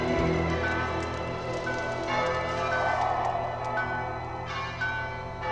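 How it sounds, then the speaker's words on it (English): Bells ring in the town of Dale beneath a dragon's attack, a dense, sustained, moderately loud peal of overlapping tones that runs steadily throughout with no voices. "The bells were ringing in the dale."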